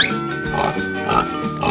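A pig oinks in a quick series of close, loud, grunting snorts lasting under two seconds, heard alone.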